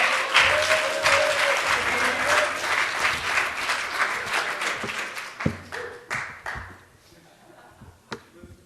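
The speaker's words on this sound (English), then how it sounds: "A special applause for those who go last" An audience at a live indoor event breaks into loud, dense applause. It thins over several seconds into scattered individual claps before stopping.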